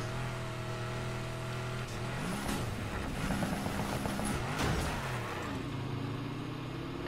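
A Koenigsegg Regera races in Need for Speed Heat, its engine roaring loud and steady, with the pitch climbing and shifting as it accelerates hard.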